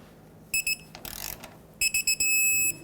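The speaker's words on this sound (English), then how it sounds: "let's torque them to 41 foot-pounds" A torque wrench tightening tie rod bolts on a Ford Excursion gives a sequence of high-pitched electronic beeps, a brief ratcheting burst, then more beeps ending in a longer sustained tone.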